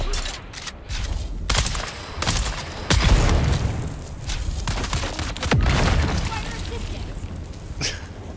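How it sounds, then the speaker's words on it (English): Grenade blasts and gunfire ring out in a Dune Awakening firefight: heavy booms thud near, among scattered shots, with voices talking over the chaos. "Throw a grenade"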